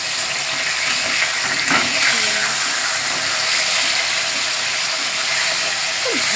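Eggplant and hilsa fish fry in oil in a pan, giving a steady, close, continuous sizzle and hiss with occasional soft scrapes as pieces are turned, while a voice talks quietly over it.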